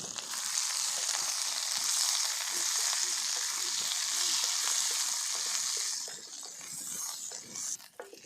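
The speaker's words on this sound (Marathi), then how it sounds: "चांगले परतून घ्यायचे तेलामध्ये चांगले तेलात परतून घ्यायचे" Ivy gourd (tondli) sautéing in oil makes a loud, steady, close-up sizzle, dense and continuous, with frequent soft stirring scrapes underneath. It thins and breaks up near the end, and no one speaks.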